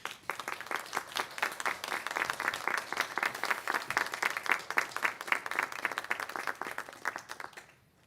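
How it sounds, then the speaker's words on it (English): Graduates and guests applaud at a 2021 graduation ceremony, a full room of lively, fluttering hand claps at a steady level that breaks off abruptly near the end, leaving near silence. "applause, or any other way you like."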